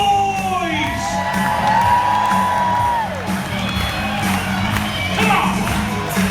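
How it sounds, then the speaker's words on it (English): A crowd cheers, whoops and yells loudly and steadily throughout, with shrill rising whoops standing out over the roar. "I want you to bring the house down as we turn them into rock stars. Make some noise!"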